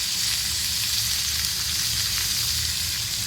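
Garlic fries in hot oil with a dense, even hiss that stays loud and close throughout, without voices.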